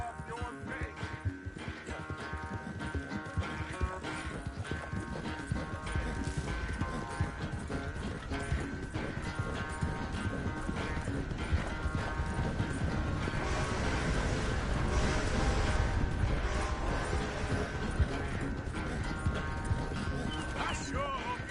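Several horses ride at a steady pace in Red Dead Redemption II, hooves clopping in a busy, continuous patter under music and ambient game sound, with an occasional whinny and brief talk.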